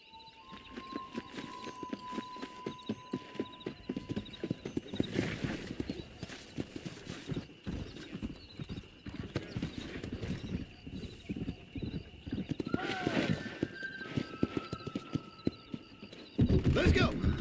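Horse hooves clip-clop steadily while riding in Red Dead Redemption, a rapid close rhythm running throughout, with brief whinny-like tones and a voice talking at times over it.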